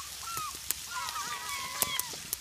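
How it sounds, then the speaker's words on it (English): Seagulls call repeatedly around fish cleaning boards by the water, a mix of drawn-out cries and short squawks at moderate distance, with a few sharp knocks in between. "The seagulls found the fish"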